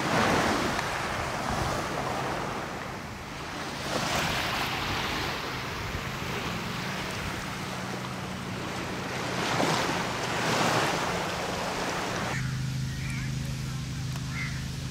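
Ocean waves at a beach in Oman beside a hotel flanked by mountains: continuous washing surf with swelling rushes, mixed with wind buffeting the microphone.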